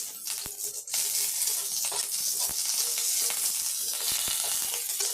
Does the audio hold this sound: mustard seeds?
yes